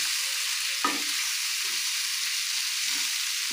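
Mustard paste being stirred into taro stolons and prawns frying in a pan, a steady loud sizzle with brief scraping stirs, no voices.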